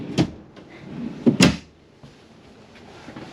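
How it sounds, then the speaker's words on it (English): Dresser drawers in a 2019 Tiffin Open Road 34PA Class A RV are slid and bumped shut, giving a few sharp wooden knocks and brief rumbles close by, with no talk. "Below that we also have these dresser drawers."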